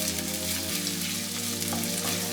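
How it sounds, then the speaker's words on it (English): Turkish paprika paste sautéing in a pan for red lentil soup gives a steady, close sizzling hiss over a constant low tonal hum, with no voices. "Saute the paste."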